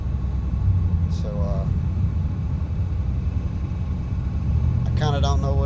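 A Dodge Dakota R/T makes a strange noise while driving: a steady low road rumble and drone from inside the cab that rises with speed. Two brief voice-like sounds cut in over it.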